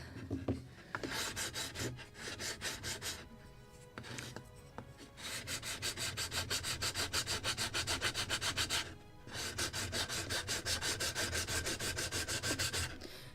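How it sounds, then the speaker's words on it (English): Rhythmic sanding of wooden planks for a Midwest Muscongus Bay lobster smack model kit, steady close-up strokes in long runs broken by short pauses, with no talking. "So I'm sanding each part every time a little, so I don't have that huge quantity of dust."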